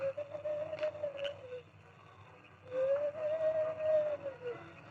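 A drawn-out owl hoot imitated by a human voice, given as a signal, sounds twice as a long, level, whistle-like tone against a quiet background. The second call is louder and closer.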